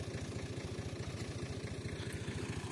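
A Fiat Turbo 480 tractor engine strains while plowing hard ground, giving a steady low, rapid chugging throb at a constant pace, fairly distant and without talk.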